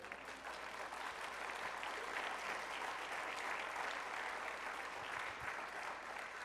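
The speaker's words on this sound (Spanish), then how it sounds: "Denle un aplauso fuerte al Señor." A congregation in a church bursts into loud, sustained applause, a dense wash of many hands clapping together that stays strong throughout, with a faint voice briefly underneath.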